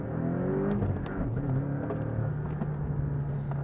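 Porsche 718 Boxster T driven at the Michelin Porsche Slalom Cup, its engine droning and revving up and down through a short run, loud and close with no talk.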